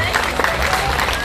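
Applause from an audience at a village gathering in Tureni, as a county councillor is welcomed, steady clapping from a crowd close by that fills the short moment.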